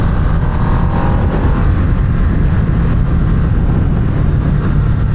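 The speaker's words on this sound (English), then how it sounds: "The exhaust sounds so much better in sport mode when you're like getting on it." A Harley-Davidson Nightster motorcycle in sport mode sends out a deep, steady exhaust rumble while riding, loud and close under heavy wind noise, with no talk.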